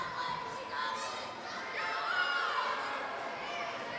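A pro wrestling crowd at an NWA Mountain State Wrestling show boos Dr. Roger Hamm, a former tag team champion. The arena noise is a steady, fairly loud wash of jeers and chatter across the whole stretch, with no clear single voice standing out.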